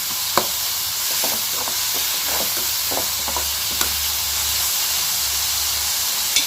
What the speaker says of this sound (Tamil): இப்போ இந்த வெங்காயத்தை நல்லா வதக்கிக்கிடலாம்